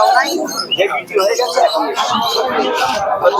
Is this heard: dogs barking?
no